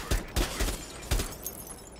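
Bursts of video game gunfire as a player is shot, four sharp cracks spread over two seconds, loud and close with no talk over them.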